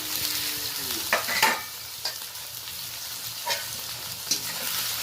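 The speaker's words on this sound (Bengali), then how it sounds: "এটা ভালো করে নাড়াচাড়া করে নিচ্ছি" Onion and tomato frying in a pan give off a steady close sizzle, and a spoon scrapes and stirs through them in several distinct strokes, with no voices.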